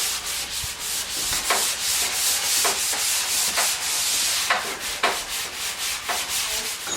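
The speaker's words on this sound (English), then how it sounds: "I'm almost done with the sanding of the table" Steady, continuous rasping of hand sanding a wooden table with a sanding block, with rhythmic back-and-forth strokes and occasional sharper scrapes, close and fairly loud, no talking.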